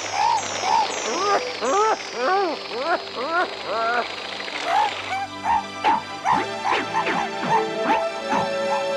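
A yellow dog barks in a series of repeated, close, loud yelps and bow-wows, with rhythmic bursts at first, then more scattered barks over a low engine-like hum.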